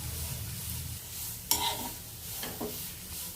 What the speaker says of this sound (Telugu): ఇలా వేపుకోవాలి బాగా, కొంచెం మెత్తబడే వరకు